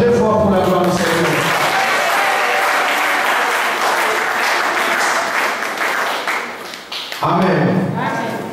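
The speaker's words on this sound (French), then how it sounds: "Acclamons très fort pour la gloire de Dieu." A church congregation claps and cheers loudly and steadily for several seconds as one dense wave of applause, with a voice speaking at the start and again as the clapping fades near the end.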